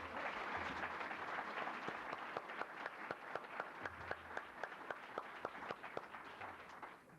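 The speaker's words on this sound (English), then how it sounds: "How about a round of applause for each of the panelists?" Moderate audience applause for a panel of speakers, a steady patter of clapping from a seated crowd that thins toward the end into a few distinct, rhythmic claps.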